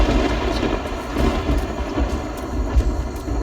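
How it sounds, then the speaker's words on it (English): Steady rain with low rumbling thunder fills a stormy scene in the video game Risen 2, a continuous dense wash of downpour with deep swells, heard alone without talk. "Oh good, more rain."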